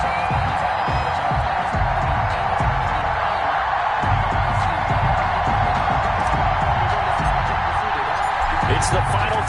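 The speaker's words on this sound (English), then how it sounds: "This crowd is ready as their guys get set to match up between the New York Jets and the Chicago Bears." Stadium crowd in Madden 21 at a New York Jets versus Chicago Bears NFL game, a steady, dense roar and cheer that holds at an even level throughout with no breaks.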